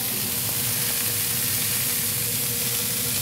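Loud, steady sizzling and crackling of a brisket burger patty frying on a hot griddle, close up with no talking.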